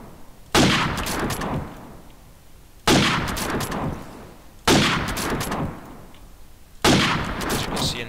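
Four loud single gunshots fired through a wall in Call of Duty 4 Promod, each a sharp close crack with a decaying tail, spaced about two seconds apart.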